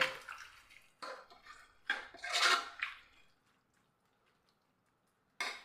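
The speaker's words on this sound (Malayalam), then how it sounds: "ഞാനിവിടെ വെള്ളമാണ് ഒഴിച്ചു കൊടുക്കുന്നത്" Water splashing and pouring into a cooking pan during an egg and onion dish, in several broadband bursts at close range, then a pause and a final short splash, with no talk.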